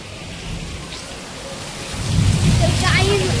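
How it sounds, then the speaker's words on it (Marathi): Heavy rain pours outside a wedding pavilion at a night haldi ceremony, a steady broadband wash that swells louder partway through, with faint voices in the background. "आणि बाहेर बघा किती पाऊस पडतोय, खूप पाऊस पडतोय."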